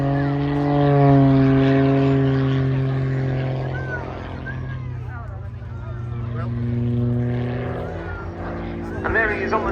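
Propeller-driven aerobatic plane performing at the RAF Cosford air show: a loud droning engine whose pitch rises and falls as it rolls and climbs, continuous throughout, with an announcer's commentary over it.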